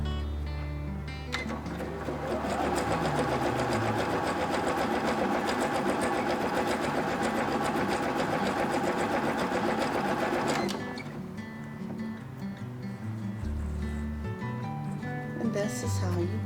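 An Empisal sewing machine runs a gathering stitch with a presser foot, a rapid steady mechanical chatter lasting about eight seconds before stopping, with a voice speaking around it.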